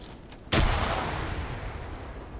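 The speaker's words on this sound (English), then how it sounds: "That's a grenade being thrown right there. Another grenade lands." A grenade explodes in an OFCRA Indochina PvP video game match: one loud, close blast that cuts in suddenly after a quiet moment and then rumbles away slowly.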